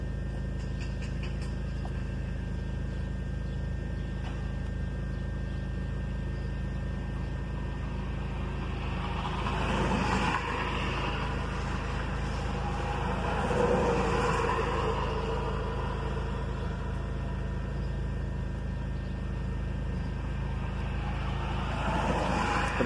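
A 2.0-litre VW engine idles at steady revs in a workshop after throttle body calibration. The low, constant hum is joined by brief swells of mechanical noise partway through.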